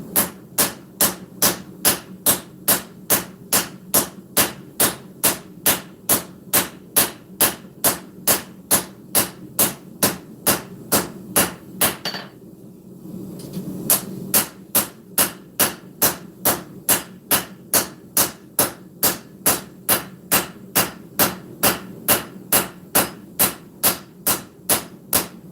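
Steady, evenly paced hammer strikes ring out on a sword blade being forged with a straight peen hammer, dozens of sharp metallic blows with one brief pause midway before the rhythm resumes.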